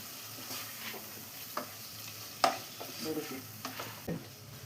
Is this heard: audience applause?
no